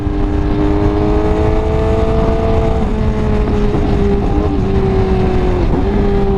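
A motorcycle being ridden and accelerated on fresh Castrol engine oil, its engine a loud, continuous drone that rises and dips in pitch as the throttle changes, heard close with no talking.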